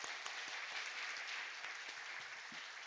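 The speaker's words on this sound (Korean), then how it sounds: "우리 감사와 또 격려의 박수 한번 하겠습니다." A church congregation claps during a Sunday morning service, a steady, faint patter of many hands sounding distant in the hall.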